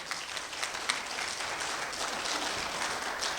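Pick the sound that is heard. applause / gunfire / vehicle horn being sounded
applause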